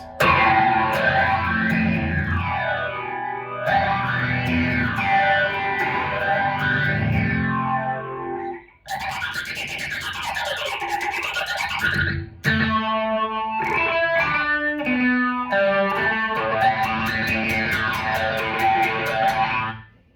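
Electric guitar chords and melodic runs through a Zoom G1x Four with phaser placed before delay, a sweeping phaser whoosh and trailing echoes, loud and continuous with a brief pause midway.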